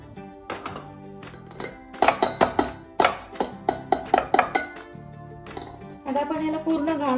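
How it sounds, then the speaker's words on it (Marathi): Pineapple juice is strained in a kitchen with a run of sharp clinks and taps from a utensil against the strainer and vessel, a quick irregular series of close knocks, followed by a softer liquid rush near the end. "आता आपण ह्याला गाळून घेऊया।"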